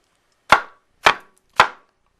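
Three evenly spaced, crisp knife strokes slicing mushrooms on a board, each a short sharp tap with a brief decay, close and clear with silence between.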